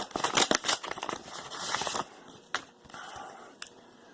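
A sealed package of Ultra Sleeves card sleeves is torn open with sharp crinkling, ripping plastic, dense for two seconds, then a couple of isolated crackles close by.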